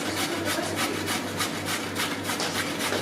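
Steady rhythmic scraping and rasping of carrots being grated, a firm rubbing stroke repeating quickly and evenly, close and continuous with no voices.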